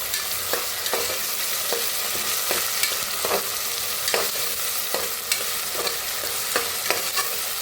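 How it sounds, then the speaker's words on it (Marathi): Garlic, ginger and green chili paste fries in a hot pan while a spatula stirs it, so a steady sizzle runs underneath regular scraping strokes about every second, close up with no voices. "आता लसूण अद्रक बारीक करून घेतलेली हिरवी मिरची वाटण टाकूया ह्याच्यात छान असं भाजून घेऊया"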